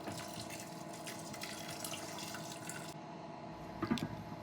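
Water poured into a pot of rice for Sri Lankan yellow rice, a soft, continuous trickle and splash at low level with a few brief drips toward the end.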